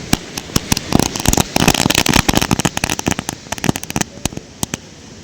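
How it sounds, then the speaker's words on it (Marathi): Firecrackers bursting outdoors at a Ganesh immersion celebration in Kunkeshwar, Devgad: a dense rapid string of sharp, loud cracks and pops, close by, thinning to a few scattered bangs at the end. "फटाके फोडतायत."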